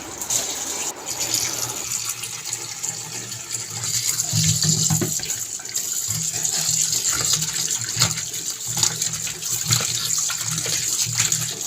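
Pieces of snake gourd are washed under steady running tap water, a continuous broadband splash that grows louder and heavier midway with occasional handling bumps, with no talk.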